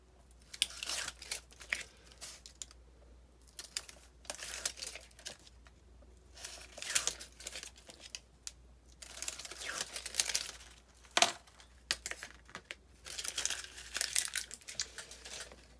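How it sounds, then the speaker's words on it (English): Backing is peeled off strips of double-sided score tape while making a travel album cover, giving a close, quiet series of crackling, crinkly peels and tears in irregular bursts. "Going to remove the backing of all my score tape here."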